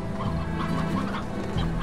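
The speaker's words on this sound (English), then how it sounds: "But I heard chickens. Oh, there are chickens here." Chickens cluck steadily in the Slime Rancher video game, a close, continuous run of fowl clucks and chatter with no talking.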